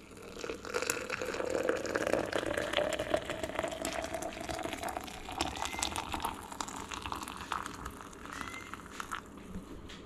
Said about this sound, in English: shove her down into the old French press. Get it nice and full of water.